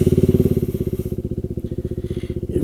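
A KTM Duke 390 motorcycle engine pulses in a fast, even throb while riding, close and loud, with no talk over it.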